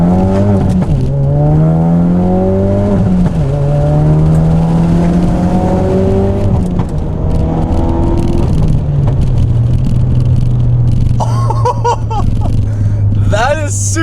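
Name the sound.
tuned 450bhp Ford Focus RS accelerating, burble exhaust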